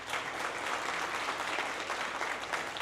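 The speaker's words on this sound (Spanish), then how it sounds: "un aplauso a los hermanos." A church congregation applauds visiting brethren, steady even clapping from a gathered group, moderately distant and consistent throughout the short stretch.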